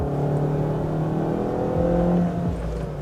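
A Honda Amaze compact sedan's 4-cylinder engine revs steadily toward its 6,600 RPM redline, a loud, continuous rising drone heard close up, with a brief dip near the end as the revs change.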